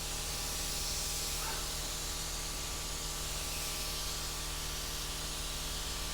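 A spray gun lays candy paint over chrome flake in a continuous, loud, close hiss, steady and unbroken throughout with a faint low hum beneath.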